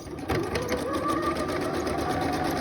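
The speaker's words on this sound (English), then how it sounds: "And then you're going to pull and you're going to stitch." A sewing machine runs at a steady, fast pace with an even mechanical rattle while zigzag-stitching elastic into a skirt waistband, heard close and alone.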